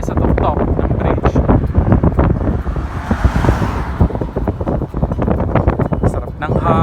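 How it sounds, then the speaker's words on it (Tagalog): Strong wind buffets the microphone on the Carvalho Bridge between Macau and Taipa, a loud, continuous gusty roar with rumbling surges throughout. "Sarap ng hangin"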